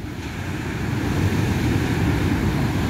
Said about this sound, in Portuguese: Olha essa onda que vem vindo agora.